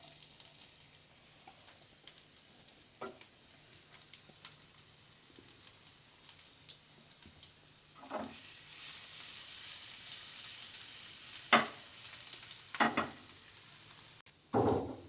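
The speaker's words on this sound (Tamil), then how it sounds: "இஞ்சி பூண்டு நல்லா வதங்கியிருக்கு" Finely chopped ginger and five garlic cloves sauté in hot oil in a pan, a soft steady sizzle running throughout with a few sharper scraping stirs near the end, fairly quiet and close, no voices.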